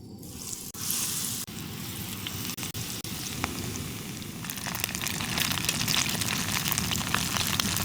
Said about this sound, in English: So, in go the prawns.